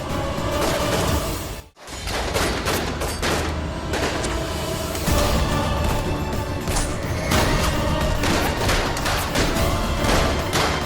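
Rapid bursts of gunfire fill a tense scene from the Hindi TV drama Gehna Zevar Ya Zanjeer, sustained and loud, with a dense clatter of shots and impacts that barely pauses except for one brief silence near the start.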